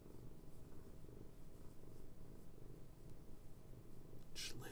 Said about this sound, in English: Just listen to this cat.